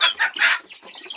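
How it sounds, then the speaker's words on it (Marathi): Free-range village chicks cluck and peep while pecking at poultry feed, giving short, close, busy chirping calls. "पूर्ण पिल्ले जे आहे आपली फीड खात आहेत"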